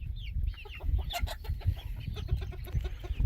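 Young silkie chickens cluck and peep softly outdoors, a scatter of short chirps and low clucks from several birds at close range, fairly quiet and irregular.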